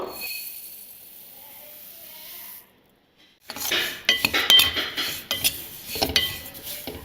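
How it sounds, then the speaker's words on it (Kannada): A cup of white sesame seeds is dry roasted in a pan over a medium flame. After a quiet start come close, irregular scraping, rattling and clinking sounds of stirring in the pan. "ಈಗ ಫಸ್ಟು ಒಂದು ಬಾಣಲಿಗೆ 1 ಕಪ್ನಷ್ಟು ಬಿಳಿ ಎಳ್ಳು ಹಾಕಿಬಿಟ್ಟು ಹುರ್ಕೋಬೇಕು"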